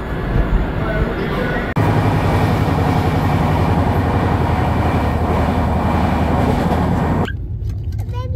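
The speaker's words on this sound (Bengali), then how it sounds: "আমাদের ট্রেন এসে পৌঁছেছে কিষানগঞ্জ।" The Darjeeling Mail train rumbles and clatters loudly and steadily for several seconds at Kishanganj station, heard from inside a 3AC coach, then the noise cuts off sharply to near quiet at the end.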